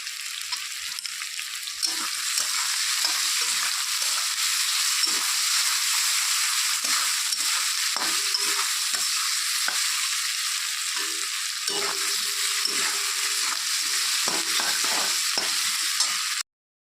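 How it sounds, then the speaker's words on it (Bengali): Potatoes seasoned with turmeric and salt fry in a pan, giving a steady, close sizzle with hissing steam and bursts of stirring and scraping throughout, no voices. "তো আলুগুলো ভাজা হয়ে গেছে"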